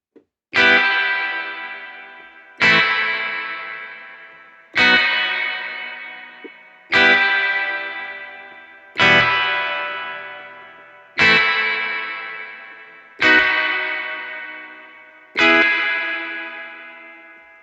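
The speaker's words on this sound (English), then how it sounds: "The Desolate staccato chords sound like this." A processed electric guitar staccato chord preset from E-Instruments Desolate Guitars strikes eight bright, distorted chords at an even pace of roughly two seconds, each with a sharp attack and a long echoing decay.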